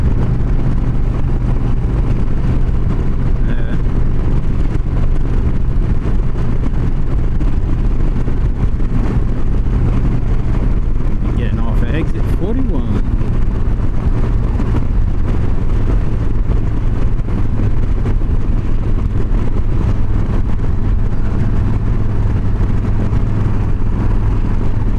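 Steady ride on a motorcycle after almost three weeks unridden, with constant wind buffeting and low engine drone filling the whole stretch, loud and continuous with no talk.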